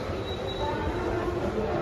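Train at Vile Parle railway station, a continuous loud rumble of rolling carriages with a thin high metallic squeal running over it.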